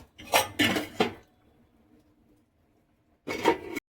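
Roasted cumin seeds being ground by hand in a kitchen: three quick loud gritty bursts, a quiet pause with faint background hum, then one more short burst.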